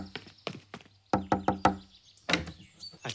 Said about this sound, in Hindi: रोहित, दरवाजा खोलो।